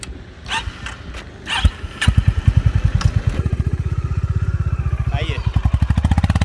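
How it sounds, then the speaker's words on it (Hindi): A Honda CB350 Deluxe Pro motorcycle starts up and rides off, its engine settling into a loud, rapid, even thumping pulse after a few clicks and rattles, close by. "तो चलिए दोस्तों लेकर चलते हैं बाइक को"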